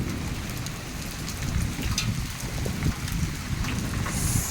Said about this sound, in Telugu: చినుకులు ఎక్కువ అవుతున్నాయి